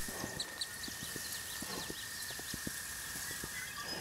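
Horse hooves from riding in the video game Kingdom Two Crowns: a steady, rapid clip-clop of gallop beats over constant background music and ambience, moderately loud and continuous.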